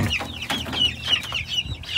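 Hens clucking close by on a ranch, a run of short, soft repeated calls with a few higher squawks, steady and fairly loud throughout.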